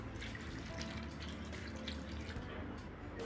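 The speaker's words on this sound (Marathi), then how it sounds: "एक ग्लास पाणी टाकले मी" A glass of water runs steadily into a dough mixture of salt, turmeric and oil for beetroot puran poli, a soft continuous pouring that holds for a few seconds with no talking.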